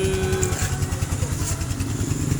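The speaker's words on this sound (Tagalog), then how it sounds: "birahin mo lang ay. Birahin mo." A motorcycle engine revs hard and steadily at close range in a loud, continuous buzzing drone, with no one speaking over it.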